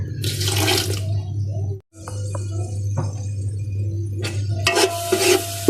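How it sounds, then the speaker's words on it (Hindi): Water poured from a tap into a pan of spice mix with turmeric and black pepper while cooking, splashing in two close bursts with quieter clinks and stirring between them. "अभी हम इसमें पानी शामिल कर लेते हैं"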